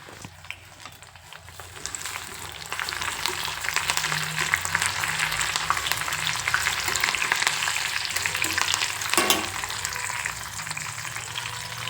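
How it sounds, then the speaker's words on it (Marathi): Onion pieces fry in homemade hair oil, giving a steady crackling sizzle that carries on throughout at moderate level, with occasional stirring and no speech. "आपल्याला तेलामध्ये ना छान असं कांदा पण असं पूर्ण त्यात तळून द्यायचं आहे"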